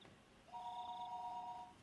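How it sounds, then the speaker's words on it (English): Telephone ringing in the Higurashi When They Cry visual novel, a steady electronic two-tone ring sounding once for about a second, moderately loud over a faint background hum, with no voices. "As I was going to get them, the phone rang once again."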